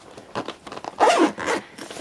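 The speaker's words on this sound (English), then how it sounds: "Got a nice zipper. It has a zippered front compartment" Zipper being pulled open and shut on the front compartment of a camera bag, several quick close-up zips in short bursts with no talking.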